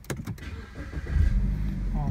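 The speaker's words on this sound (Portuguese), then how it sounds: "Vamos dar partida no carro." A BMW 320i's engine starts with a brief whirring crank, then catches into a low, steady idle rumble close by, while someone speaks over it.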